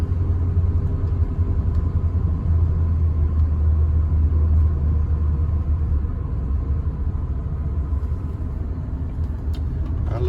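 Mercury Monarch with a 302 V8 from 1976 cruising along, a steady low engine rumble and road drone filling the cabin without letup, no voices.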